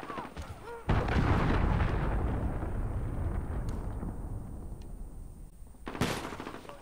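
Cruise missile killstreak explosions in a first-person shooter game: a heavy blast hits near one second and rolls into a long decaying rumble, followed by a second sharp boom near six seconds, with faint voices in the background.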